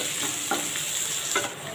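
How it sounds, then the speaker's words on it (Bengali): Chopped onions frying in a pan give a steady close sizzle with a few light stirring scrapes, with no talk. "পেঁয়াজ লাল লাল করে ভেজে নেব।"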